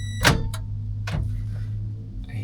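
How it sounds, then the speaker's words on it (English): Car sounds outside a Tesla parked at a Home Depot, over a steady low rumble: a sharp mechanical whir and a couple of clunks, with a brief hiss at the end. "I hear a car outside."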